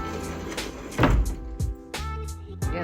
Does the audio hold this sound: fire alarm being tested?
no